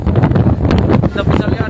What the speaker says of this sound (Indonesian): Anginnya sangat kencang sekali nih.